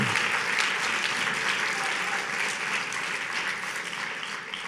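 Steady audience applause fills a room at a law school pro bono awards ceremony, dense and sustained throughout, slowly easing toward the end.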